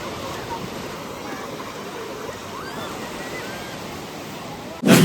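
Steady broadband rush of sea water draining away at receding tide on the Koliyak coast near Bhavnagar, a continuous wash of surf held at even level, ending in a sudden louder burst of noise.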